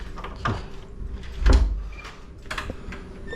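A door swings open for stepping outside at dawn, giving a couple of soft knocks and a louder thud with a low rumble, then a latch-like click, close and moderately loud.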